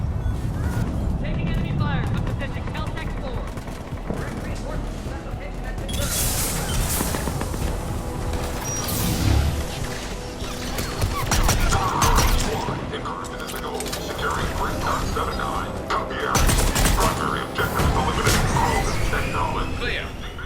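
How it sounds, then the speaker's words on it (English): Mass Effect 3 combat keeps up enemy gunfire and explosions throughout, with continuous loud rumbling, booming blasts and clattering shots layered into a dense din, while voices speak over the fighting. "Taking enemy fire from position Caltech 4."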